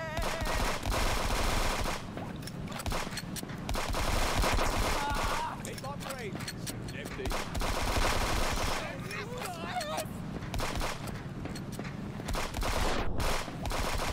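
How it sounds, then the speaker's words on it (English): Turrets in the video game Friends vs Friends fire sustained rapid bursts of gunfire that trade back and forth densely and loudly throughout, with the chatter barely pausing. "we got a little bit of a turret battle here"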